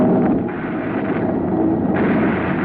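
A weapon firing in the 1956 science-fiction radio drama X Minus One, The Map Makers. The sound effect is a loud, steady roaring blast that holds for several seconds.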